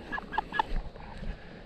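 Chickens raised for meat making short, nasal honking clucks in a quick burst of three or four calls, fairly close, with a low background hum.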